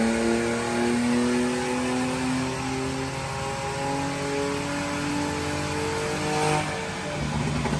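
A Volkswagen Up TSI with a stage 3 remap and 206,000 km on it, its engine revving and holding a steady, strained drone with a few crackling pops near the end, loud and close with no talking.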